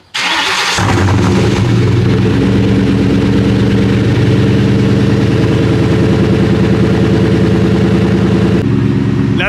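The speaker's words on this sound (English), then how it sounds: "So now that we have this all buttoned up, let's do a cold start." A New Edge Ford Mustang GT V8 with a Borla ATAK exhaust cranks and fires on a cold start, flaring loudly before settling into a deep, rumbling high idle that drops slightly near the end.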